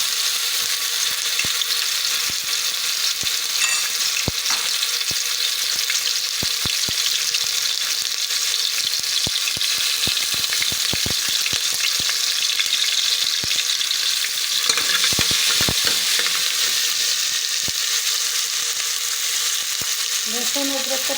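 Garlic and ginger paste frying in hot oil on a stove for khichdi, a steady close sizzle throughout with occasional sharp crackles and pops, no talking.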